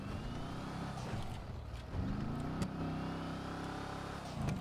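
A lowrider car in GTA 5 idles and revs with a deep, steady engine rumble, close and fairly quiet, its pitch rising slightly partway through.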